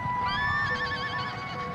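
Horses neigh and whinny in a charging cavalry scene of Mameluke riders, a loud, wavering whinny rising and falling across the clip over a rumbling, hoof-filled background.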